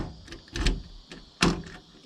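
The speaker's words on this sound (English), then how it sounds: "And we'll lock the door." A key locks the door of a Kenworth K100E Aerodyne truck: several close metallic clunks and rattles, with two sharper clacks about a second apart.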